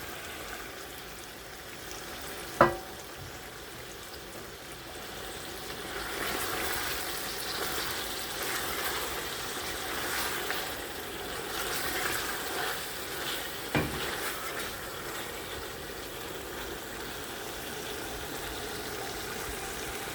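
Chicken koftas drop into a pot of biryani and fry with a steady, moderate sizzle. Two sharp clinks stand out, one early and one near the middle, and no one speaks.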